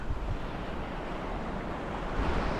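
Sea waves surge and wash continuously out on open water during a fishing trip, a loud broad roar mixed with wind buffeting the microphone, with no voices.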